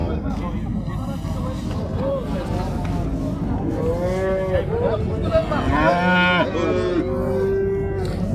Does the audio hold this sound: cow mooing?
yes